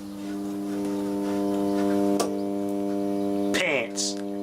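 A brush motor fed from a variac hums with a strong, steady tonal drone, interrupted by a sharp click and then a brief warbling change in pitch before settling again.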